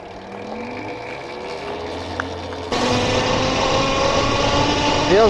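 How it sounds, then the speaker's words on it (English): An electric motorcycle rides along with a whining motor, a rattling chain and rushing wind. The steady drone grows louder midway, with a rising and falling whine near the end. "A lot of chain noise, a lot of wind noise. Motor sounds pretty healthy."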